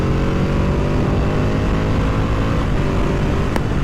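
Ducati Panigale 899 motorcycle accelerating hard with a quick shifter, a loud continuous engine roar rising in pitch, heard close and alone without talk.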